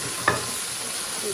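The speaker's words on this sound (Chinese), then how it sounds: "我们把年糕倒进去，进行翻炒" Rice cakes tossed into a hot wok for stir-frying, with a brief clatter followed by a steady sizzle.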